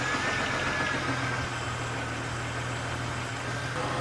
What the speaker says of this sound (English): I don't know if you heard the slight knocking for just a second as it started it up.